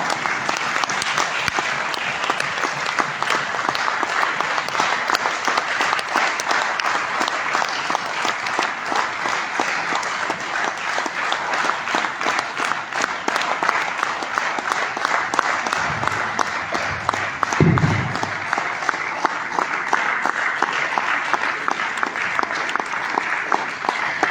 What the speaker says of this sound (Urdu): ذرا بھرپور تالیوں میں بھرپور انداز میں استقبال کیجیے گا جناب سید نعیم شاہ